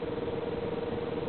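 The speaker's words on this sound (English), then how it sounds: "Fuel pump comes on" A fuel pump in a car with an RB20DET engine switches on and hums steadily, a constant close whine held at one pitch over a broad low buzz.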